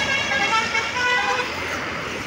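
A tour bus returning from Pangandaran sounds its telolet (basuri) horn, a loud, sustained multi-tone melodic toot that rings steadily for about two seconds over traffic noise, with voices audible in the background.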